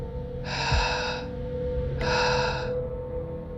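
Two slow, heavy breaths, each a drawn-out airy rasp lasting close to a second, with a pause between them over a low, steady background hum.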